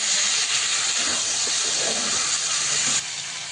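Fresh spinach hits a hot pan of cauliflower, potatoes and green chilli with a splash of water, giving a loud, steady steam hiss for about three seconds before it eases slightly.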